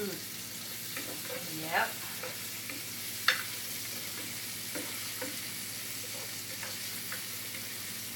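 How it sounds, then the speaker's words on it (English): Garlic and onions fry in a pot, a continuous steady sizzle with occasional stirring clinks and one brief spoken word. "I put the onions quick because I don't want the garlic to burn"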